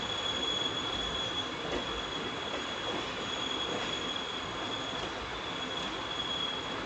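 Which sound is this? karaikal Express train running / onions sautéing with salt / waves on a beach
karaikal Express train running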